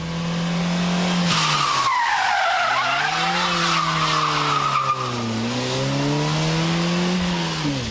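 A front-wheel-drive car slides along on locked rear wheels, its tires letting out a loud, sustained squeal that wavers in pitch over several seconds while the engine drones beneath.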